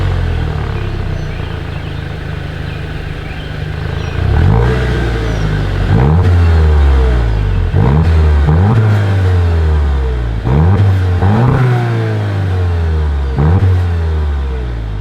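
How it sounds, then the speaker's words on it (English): A 2025 Volkswagen Jetta GLI exhaust, loud and close: a steady idle, then a string of sharp revs that climb and fall back, roughly six blips spaced a second or two apart. "As always, here is that exhaust clip."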